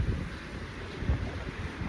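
Gusty wind buffets the microphone with a steady rumbling roar and a couple of stronger low thumps, with no voices.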